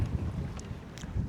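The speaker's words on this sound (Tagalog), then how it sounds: "Lakas ng hangin dito guys." Strong wind at the Pililla Wind Farm buffets the microphone in a low, rough, continuous roar for a brief moment.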